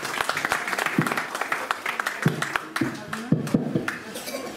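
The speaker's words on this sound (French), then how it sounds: "Merci d'accueillir Moussa par vos applaudissements" Applause from an audience welcoming a guest at a French-language talk event, clapping steadily at moderate loudness with a few crisp individual claps close by and some murmur mixed in.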